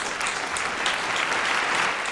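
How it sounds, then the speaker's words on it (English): Audience applause at a live hip hop podcast show, a steady dense wash of clapping that holds evenly loud for its whole length with no talk over it. "Round of applause"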